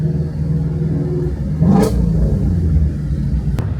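A throaty Ford Mustang Shelby GT350R stock exhaust with valves open roars close by, surging in a sharp rev midway before settling back into a deep, steady growl.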